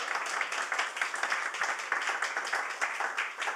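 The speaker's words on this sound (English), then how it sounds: "can I have a second round of applause for my dad" A small audience gives a second round of applause at a family celebration, with brisk, even clapping from a modest crowd, moderately faint and continuous.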